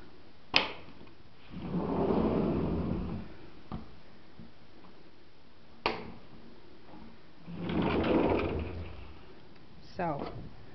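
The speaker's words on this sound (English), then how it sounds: "I'm going to try to get out there if I can get one of the doors open." A house door opening onto a freshly painted outdoor deck gives sharp clicks and thumps, then a rattling latch near the end, with someone talking in between.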